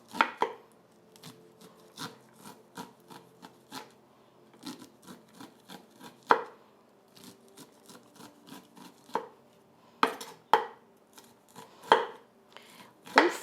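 Fresh corn kernels scraped by hand on a metal and wood grater in a home kitchen, a series of quick rasping strokes in irregular bursts, close and fairly quiet, with no talking.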